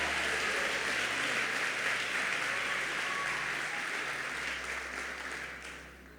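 Sustained applause from a church congregation during a morning service, a steady dense wash of clapping that holds for several seconds and then begins to fade.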